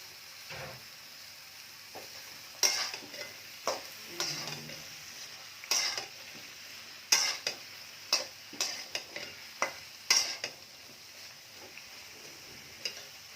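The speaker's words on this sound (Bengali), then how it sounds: "পেঁয়াজ ঝাল ভেজে নিয়েছি, এবার ঝিঙ্গাটা দিয়ে দেব।" Ridge gourd with onion and chilli frying in a pan for a hilly-fish curry, a steady soft sizzle broken by scattered stirring clicks and scrapes of a utensil against the pan, moderately close.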